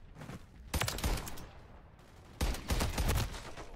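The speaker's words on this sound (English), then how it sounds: "A shotgun." Shotgun fire in a video game: two loud, close blasts, each followed by a burst of rattling report. A short quieter gap separates them.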